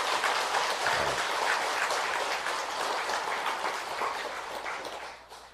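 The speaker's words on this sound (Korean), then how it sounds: "여러분들 크게 우리 박수를 한번 보내주시기 바랍니다" Applause from an audience gathered at a Buddhist temple's all-night prayer service, a steady wash of many hands clapping that holds for several seconds and then tapers off toward the end.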